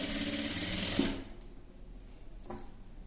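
A sewing machine stitches piping thread onto a blouse neck, a fast close whirring run that stops after about a second, followed by quiet handling and one brief mechanical clack.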